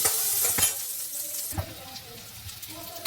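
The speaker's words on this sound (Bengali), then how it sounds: "আলু এমনি ভাজা করেন, আমি সিদ্ধ করে ভেজে নিচ্ছি" Parboiled potatoes fry in hot oil with a steady, close sizzle and bright hiss, and a few sharp clatters of stirring stand out near the start and middle.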